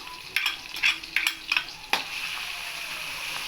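Tulsi rasam mixture of ground tulsi, garlic and cumin cooking in a pan, stirred with a few sharp scraping strokes over a steady, close sizzle that continues alone afterward.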